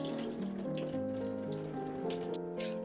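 Water pours steadily from a pot of soaked urad dal and rice being drained in a home kitchen, a continuous close splashing trickle with no talk.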